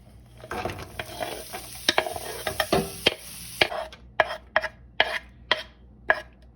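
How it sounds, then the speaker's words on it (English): Onions frying in a pan for a slow-cooker meal, with a steady close sizzle under stirring and scraping, then a run of sharp, regular clacks of a utensil against the pan near the end. "So we're gonna fry up the onions first."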